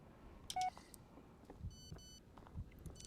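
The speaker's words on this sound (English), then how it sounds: "Another text message." A phone text message alert from the PC video game Blair Witch: a brief electronic beep followed by a faint doubled tonal chime over a low, quiet game ambience, with no talk.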